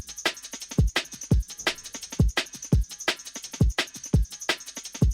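Drum break with kick, snare and hi-hats, including a sampled break, run through glue compression, drum bus drive and tape saturation, playing a punchy, steady looping groove with crisp, bright hats and no voices.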